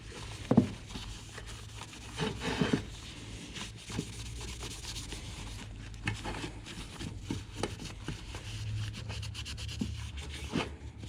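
Close cloth rubbing as a mechanical assembly part is wiped clean by hand after a spray of brake cleaner, a soft repeated scrubbing with occasional light knocks and handling thumps, quiet and without talk.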